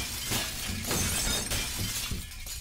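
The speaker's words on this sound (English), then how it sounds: "I am just hearing all of this glass breaking." Glass shatters repeatedly in the video game Garry's Mod Prop Hunt, a loud, continuous crashing and tinkling with several bursts in close succession.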